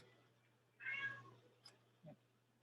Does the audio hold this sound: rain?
no